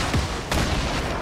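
A grenade launcher fires in a Fortnite match, giving a couple of loud, blunt booms with rough, noisy tails that fill the short stretch with dense low rumble.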